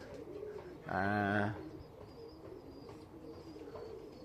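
A single English Tippler pigeon gives one clear, close coo lasting about half a second over a steady outdoor background hum, with faint chirps afterward.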